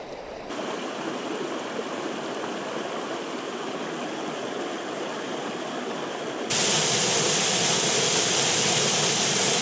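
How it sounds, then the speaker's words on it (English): A waterfall on a river in Glenariff, Antrim, dropping some 30 to 40 feet, roars as a steady broadband rush of falling water, growing noticeably louder and closer partway through, with no voices. "This is one of the most impressive waterfalls up along the river, and this must drop about 30 or 40 feet."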